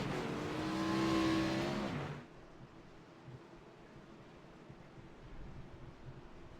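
Race cars rolling off the front straightaway at a Charlotte playoff race, a loud close engine roar for about two seconds that cuts away to distant engine rumble and wind.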